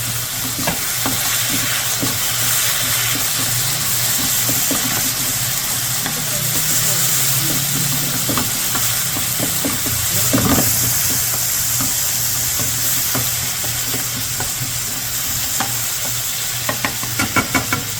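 Steady loud sizzling of bacon frying in a pan, with occasional stirring scrapes and clinks throughout.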